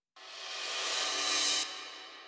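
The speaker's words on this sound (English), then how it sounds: "And finally we have a reverse crash." A reverse crash cymbal sample in FL Studio for a trap beat swells steadily louder from nothing into a bright, dense wash, then cuts off abruptly and leaves a lingering tail, alone with no talking.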